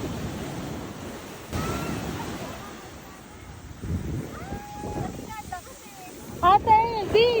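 Ocean waves at a beach wash in a broad continuous roar, with wind and excited voices and playful squeals over the surf.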